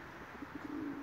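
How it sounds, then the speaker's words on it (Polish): Racing pigeons cooing nearby in a loft during a winter flight event, a few soft low coos rising into a steadier murmuring call near the end, over a quiet hiss. "Gołębie."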